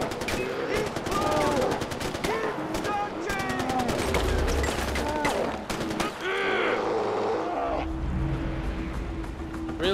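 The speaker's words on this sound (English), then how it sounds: "Oh, that's a bear." Rapid bursts of gunfire in Far Cry 4 crackle over a busy mix while a bear growls and roars, and people talk over the action.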